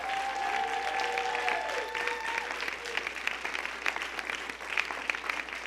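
Sustained crowd applause and cheering for True Parents fills a hall, loud and dense throughout, with a faint sustained tone and a little voice audible early on.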